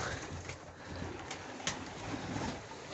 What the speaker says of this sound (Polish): Się trochę powylęgało tych gołębi